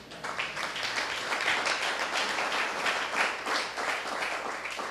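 A church congregation applauds during a sermon, dense rapid clapping that swells and holds steady for several seconds, filling the room at a moderate level.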